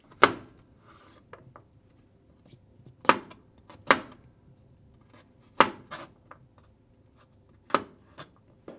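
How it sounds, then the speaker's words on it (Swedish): Garlic chopped with a knife on a board for a paprika soup: distinct, close, crisp knocks at an uneven slow pace, with faint small taps between them and no talk. "kommer börja med att hacka vitlöken"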